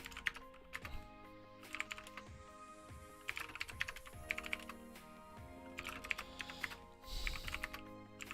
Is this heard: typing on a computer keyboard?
yes